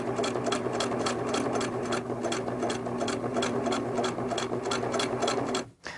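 A sewing machine stitching in the ditch along the seams of a quilt, running steadily with a fast, even mechanical whir and regular needle ticks, close up, then stopping abruptly just before the end.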